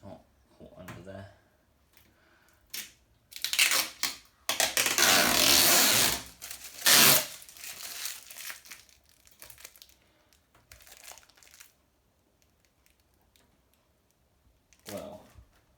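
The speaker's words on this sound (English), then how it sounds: "I just realised I'm not taking this bit of plastic over the front panel off" Protective plastic film is crinkled and pulled off the front panel of a new washing machine, with loud bursts of crackling and tearing between quiet gaps, mixed with a person talking.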